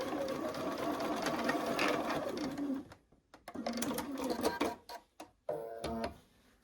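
Sewing machine stitching two fabric pieces together, a steady close whirring run for about three seconds, then stop-start bursts of stitching separated by short pauses.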